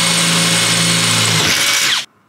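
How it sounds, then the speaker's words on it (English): An electric drill whines loudly and steadily at close range drilling holes in the metal window frame of a Toyota 80 Series Land Cruiser, then stops abruptly. "grab your drill again and drill yourself some holes"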